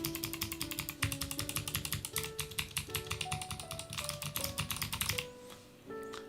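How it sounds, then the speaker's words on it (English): Fast, steady typing on a mechanical keyboard with clicky switches, each crisp click close and distinct, running continuously before easing off into a few isolated keystrokes. "Novelty's blueberries are pretty loud. But then, I mean, clicky switches obviously win out."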